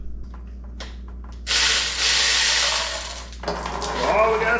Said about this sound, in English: Let me get the ratchet, power ratchet, and then we'll just drop the whole thing.